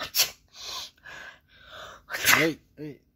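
A person sneezes during a primary-school English lesson, with two sharp bursts, one early and a louder one near the end. Breathy gasps and voiced sounds fall between them, close and fairly loud.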